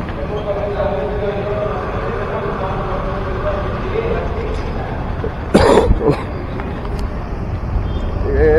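A single short cough bursts out once against steady low background rumble near an overbridge and a murmuring voice, with no other coughs following.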